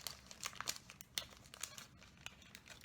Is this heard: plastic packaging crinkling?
yes